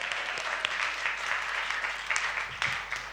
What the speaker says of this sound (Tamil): கைத்தட்டுக்க பார்க்கலாம்.